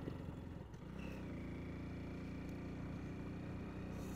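A 125cc motorcycle climbs uphill on the Zojila pass, its mid-pitched engine droning steadily with a slight rise in revs, close and continuous with no talking.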